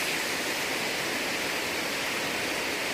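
Water rushes steadily down a hillside drain channel, a continuous broadband roar close by with no pauses or talk.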